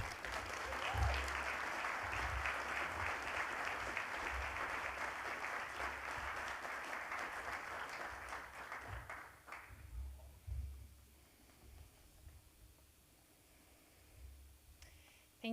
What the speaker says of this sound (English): Can we get a round of applause for Pat?